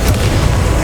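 Confringo blasting spell exploding in Hogwarts Legacy on PS5, a brief loud low boom with rumbling body filling the whole moment, no talk over it.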